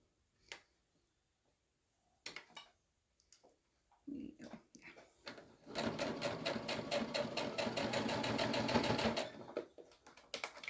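A sewing machine stitches down fabric prairie points, with scattered clicks and short bursts first, then a sustained rapid rhythmic stitching run for several seconds, close and clear.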